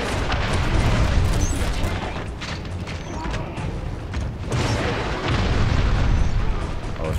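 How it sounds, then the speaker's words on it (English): Rocket blasts in the video game Killzone Mercenary: heavy, rumbling booms with crackling debris over continuous battle noise, loud and close, rising and falling in waves. "Rocket or something."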